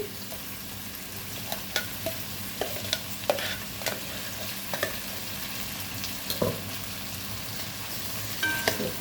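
A thick masala paste sizzles in a pan for stuffed ivy gourd curry while a spoon scrapes and stirs it, with soft knocks repeating every second or so.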